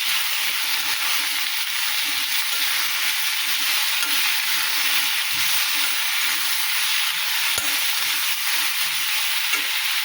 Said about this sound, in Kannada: ಈಗ ಚೆಂದಾಗಿ ಹುರ್ಕೊಂಡ್ಬರ್ತೀನಿ.